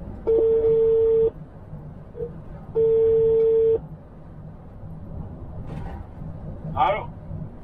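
An outgoing phone call placed hands-free by voice assistant from inside a French truck rings back as two long, steady tones separated by a pause, over low cab road rumble, with a short burst of voice at the end.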